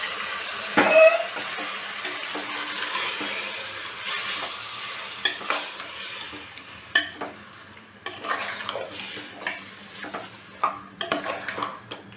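Steady sizzling of marinated chicken and onion frying in oil in a hot pan, with intermittent stirring, scraping and light metal clinks throughout.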